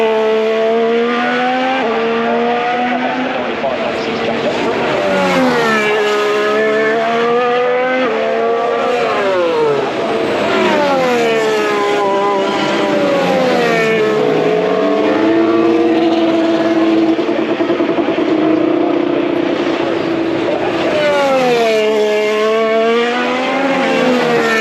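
Formula 1 cars brake into turn 1 at the Australian Grand Prix, engines screaming down through the gears in falling pitch sweeps as several cars pass one after another, loud and continuous, with no voices.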